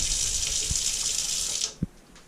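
A faucet at the sink of a bus conversion, fed by shore water, runs in a steady close hiss, then shuts off after a couple of seconds with a single small clunk.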